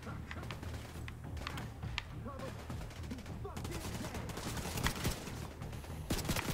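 Automatic gunfire in The Division 2 on Xbox One X, repeated bursts of shots aimed at the player, with rapid cracks layered over game noise and someone talking in French throughout.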